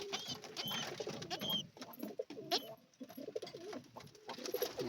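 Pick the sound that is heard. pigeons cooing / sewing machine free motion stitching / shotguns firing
pigeons cooing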